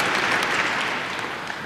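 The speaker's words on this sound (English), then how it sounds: "and they're seeing quite a lot to applaud" Dense applause from a large crowd at a 1979 Masters badminton match, Prakash Padukone vs Morten Frost, loud and continuous, gradually tapering slightly toward the end.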